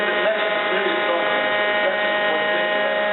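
A hydraulic ram pressing down on a lintel panel gives off a steady, unbroken electric hum and buzz, loud and constant with no pauses throughout.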